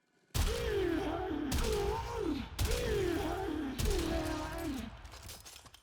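Primary weapon gunfire in the video game Warframe: four loud, evenly spaced bursts, each with a sharp attack and a ringing, pitch-wavering tone that lasts about a second.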